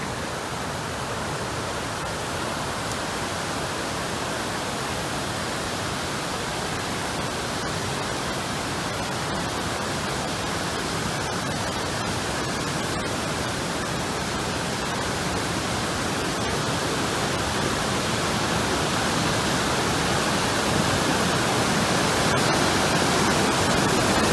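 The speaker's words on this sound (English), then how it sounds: "Deception Creek." Deception Creek rushing along the North Fork Dosewallips River trail in Olympic National Park, a steady, loud broadband roar of whitewater that fills the scene without break, close by and alone.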